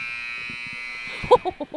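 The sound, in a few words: basketball game end-of-quarter buzzer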